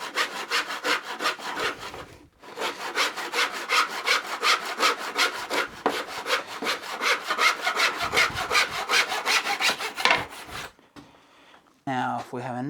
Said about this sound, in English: lifting it slightly and just sawing through